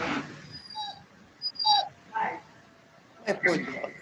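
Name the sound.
dog whimpering during a Zoom meeting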